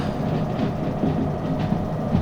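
Locomotive in the Derail Valley train simulator, climbing slowly uphill at around 30 km/h, a steady heavy rumble with rhythmic clickety-clack of wheels over rail joints, loud and continuous.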